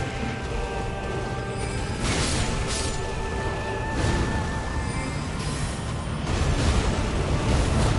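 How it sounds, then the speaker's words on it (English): Video game explosions from Elden Ring rumble in a dense, continuous roar, with several bursts swelling over the rumble and a louder surge near the end. "Just an explosion."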